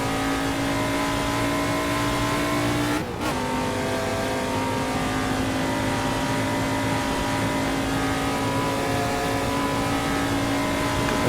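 Formula 5000 race car engines in the game Assetto Corsa, a steady loud engine drone that holds throughout with a brief sharp burst near the start.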